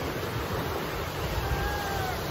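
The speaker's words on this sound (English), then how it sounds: "The ocean." Ocean waves in the Bahamas, a steady broad wash of surf with faint wind rushing across the microphone, no voices.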